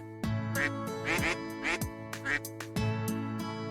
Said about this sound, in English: As soon as she set foot in her room, the ducks surrounded her like children greeting their mother.